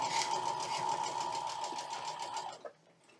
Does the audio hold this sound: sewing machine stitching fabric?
yes